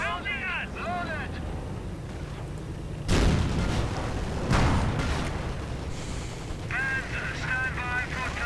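Battle noise from a World War II real-time strategy game: sudden loud bursts of gunfire and artillery blasts around three and four and a half seconds, with a constant rumbling battle background and someone commentating over it the whole time.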